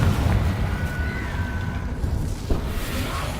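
A spell explosion in Hogwarts Legacy erupts as a loud, close, rumbling blast with a sharp pop around the middle, the low roar persisting throughout and no talking heard.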